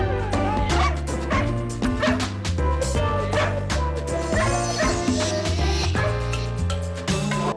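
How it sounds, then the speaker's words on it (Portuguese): A complaining dog whines, yips and barks over and over, close and loud, with constant music and sound around it and no clear speech. "o cachorro ficou a tarde inteira reclamando"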